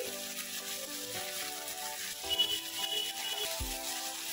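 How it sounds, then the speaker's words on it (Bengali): Spice paste with ginger paste and a little salt frying in oil in a pan: a steady, close sizzling hiss that runs on evenly, with a brief low knock near the end. "এবার খুব ভালো করে মশলাটা কষিয়ে নেব।"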